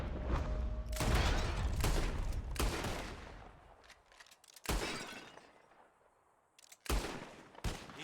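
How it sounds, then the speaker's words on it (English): Revolver shots at glass bottles in Red Dead Redemption 2 ring out as a series of sharp cracks, each followed by shattering glass and a fading ring, in clusters with quieter gaps between; no speech. "Whoever shoots more of the bottles wins"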